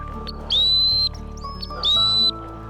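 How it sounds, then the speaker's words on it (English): Two even half-second blasts from a hunt dead dog whistle, shrill and steady, separated by a brief pause, close and clear over faint outdoor background. "I like to use a hunt dead whistle."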